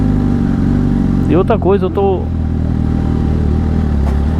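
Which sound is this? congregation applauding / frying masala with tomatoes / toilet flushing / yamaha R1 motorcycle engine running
yamaha R1 motorcycle engine running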